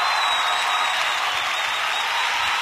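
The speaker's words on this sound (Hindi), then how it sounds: "जोरदार तालियां" Sustained audience applause at an award ceremony, a bright, even roar of many people clapping together, loud and continuous without speech.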